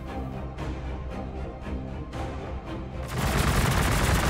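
Tank cannon and weapons fire in the Warhammer 40k: Gladius strategy game, a run of repeated booming shots that swells into a dense, loud barrage of overlapping blasts toward the end, with no talking.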